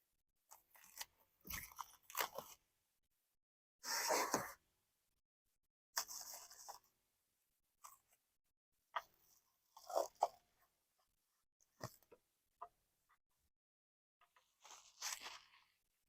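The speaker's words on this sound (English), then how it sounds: "let's get this unwrapped" Packaging on a soft roll-up truck bed tonneau cover for a Ford F-150 is unwrapped, giving crinkly plastic rustles and crunches in short, irregular bursts with quiet gaps between them.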